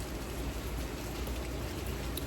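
Steady rain falls throughout, a dense, even hiss with no distinct drops standing out, fairly quiet and with no voices over it.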